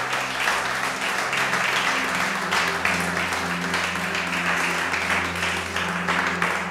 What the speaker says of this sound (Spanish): dale ese aplauso grande al Rey.